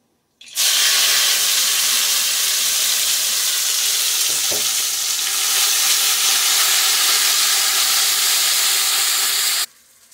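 Ground gourd leaf paste drops into hot oil with dried chillies and sets off a sudden loud, continuous sizzle. There is a brief clink partway through, and the hiss runs steadily for about nine seconds before it cuts off.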